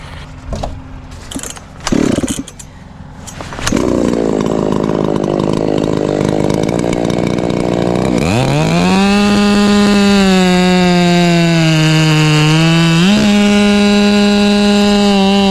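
A chainsaw with teeth removed from its chain starts with a few loud pulls and sputters, then idles and revs up to a loud, sustained high whine while cutting wood, dipping briefly as it bogs.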